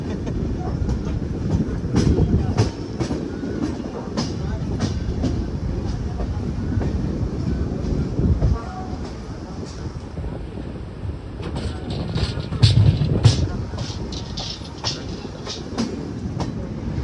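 An Indian passenger train running on its tracks makes a steady loud rumble with rhythmic clickety-clack rail joints and wind buffeting throughout, and a brief louder clatter near the end.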